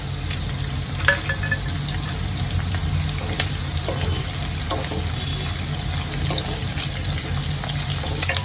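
Chili and curry leaves frying in hot oil in a pan for Marathi masala rice, giving a steady close sizzle with light clinks of a stirring spoon throughout.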